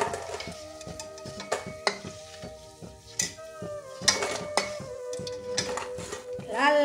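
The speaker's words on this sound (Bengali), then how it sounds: "অনেকক্ষণ ধরে মানে হালকা আঁচে ভাজতে হয়েছে এটা।" Homemade village-style chicken pakora frying in oil over a low flame, a soft sizzle broken by repeated clinks of a utensil against the pan, beneath a tonal background sound.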